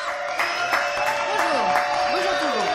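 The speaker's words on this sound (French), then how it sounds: "Applaudissements, s'il vous plaît, allez. Toute la salle." Studio audience applause at a French TV show, continuous clapping across the whole moment while a voice speaks over it.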